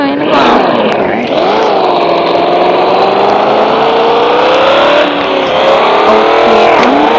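A loud car engine revs and drones steadily, its pitch dipping and rising, with voices faintly underneath.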